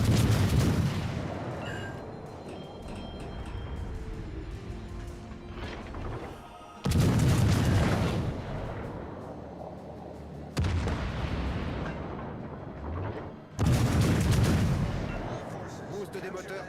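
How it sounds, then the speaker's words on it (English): Heavy 16-inch guns on German battleships in World of Warships: Legends fire in loud, booming salvos, with several big blasts a few seconds apart and a rumbling tail between them. "What is it with these German battleships constantly shooting HE? You have 16-inch guns."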